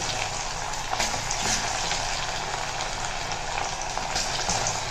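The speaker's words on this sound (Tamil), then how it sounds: "நான் கொஞ்சமாக எண்ணெய் வச்சு பொரிக்கிறேன்" Steady sizzling and crackling of taro frying in a shallow layer of hot oil, close up, with small pops and no talking.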